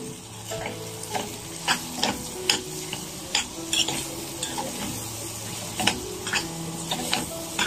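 Spices and minced meat sauté in a pan for a green bean tagine, a constant close sizzle broken by sharp, irregular scrapes and clicks of a utensil stirring against the pan.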